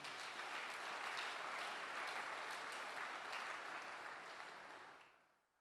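A church congregation at a Sunday service claps in sustained, dense applause that holds steady, then fades out toward the end.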